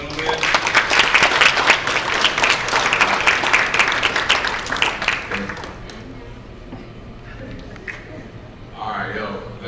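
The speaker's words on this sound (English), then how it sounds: "Let's give a round of applause," A crowd applauds loudly for several seconds, then the clapping fades out and a voice begins talking.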